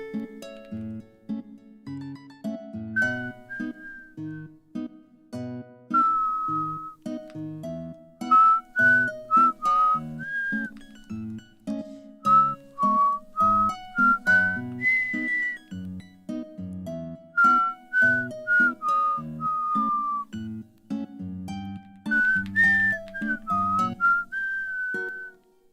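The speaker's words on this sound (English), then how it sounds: "I can whistle." A person whistles a melody in clear sustained and gliding notes with short pauses between phrases, close and fairly loud, with no speech.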